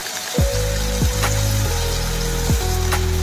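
Okra fries in a pan with sour yogurt, garlic, chili, sugar and dried fenugreek, giving a constant close sizzle cut by a few sharp scraping strokes of a spatula.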